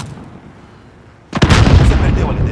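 A concussion grenade detonates in a first-person shooter game: a sudden loud blast at mid-clip, with a rumbling, crackling tail that stays strong after a quieter stretch of low background noise.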